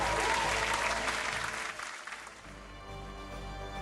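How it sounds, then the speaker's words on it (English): At a school competition's closing ceremony, the audience applauds the winning team with steady, moderately loud clapping that dips briefly in the middle before carrying on. "A very big round of applause,"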